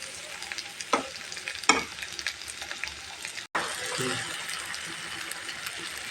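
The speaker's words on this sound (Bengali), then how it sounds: "এখন দিয়ে এগুলা সুন্দরভাবে শুটকিটা কষিয়ে দেবো" Dried fish sizzling in a pan with turmeric, chilli, coriander, green chilli and salt, stirred with a few sharp scrapes and clatters over a steady frying hiss that swells louder after a brief drop.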